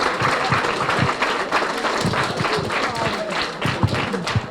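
Applause from an audience thanking a Holocaust survivor speaker at a talk in Highlands, a steady patter of many clapping hands over a few seconds with some voices mixed in.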